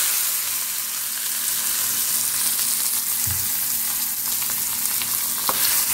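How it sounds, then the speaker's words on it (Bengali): Grated coconut fries in a pan, giving off a steady, close hiss of sizzling oil with occasional stirring scrapes throughout, and no voices. "এটা কি, নারকোল ভাজা করব।"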